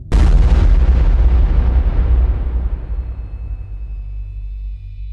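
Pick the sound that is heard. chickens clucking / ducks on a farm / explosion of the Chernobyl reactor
explosion of the Chernobyl reactor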